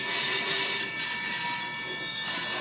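An Ohio Central freight trash train on the Cincinnati, Wilmington & Zanesville line rolls past nearby, a steady loud roar of wheels on rails with faint metallic squeal, no voices.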